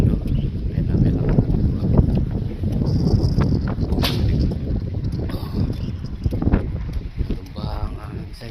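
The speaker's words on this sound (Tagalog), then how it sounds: "Lakas ng hangin." Strong wind gusting steadily across an outdoor spot near a freestanding signboard, roaring broadband buffeting against the microphone throughout, with a voice speaking over it.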